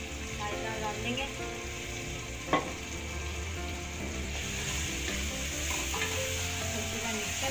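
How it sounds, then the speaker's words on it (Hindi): Soaked moong dal stirred into fried onion and tomato masala in a pan, a steady close sizzle and frying hiss with soft scraping stirs throughout and one sharper clink partway through. "अच्छी तरह मिक्स करेंगे।"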